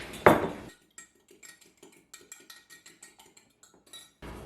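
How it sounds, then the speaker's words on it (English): A fork whisks an egg in a bowl while breakfast is made, starting with one loud scraping burst, then a quick run of light, close clinks against the bowl with short pauses. "I'm going to scramble up an egg."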